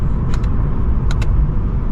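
A Lexus RC F Blue Fuji Speedway Edition with a naturally aspirated V8 drones steadily from inside the cabin while driving, a loud constant low rumble broken by two pairs of brief clicks.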